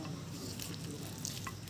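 Mashed jackfruit seeds are sautéed in oil with a soft, continuous frying hiss and a few faint stirring scrapes, quiet and close, without talk.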